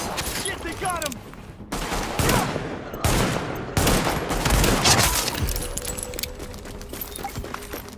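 Gunfire in the video game The Division during a hostage fight on West 26th, with dense bursts of rapid shots in several loud volleys separated by short gaps, and game voices heard around them.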